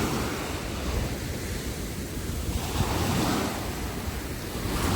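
Ocean surf breaks on a beach at around seven in the morning, a close, continuous wash of waves rolling and swelling, with wind buffeting the microphone throughout.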